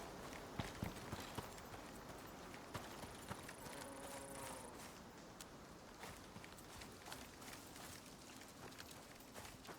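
Hoofsteps of a deer in the survival game Icarus, faint and quiet, a loose run of soft clip-clop footfalls over a low outdoor ambience, with no talk.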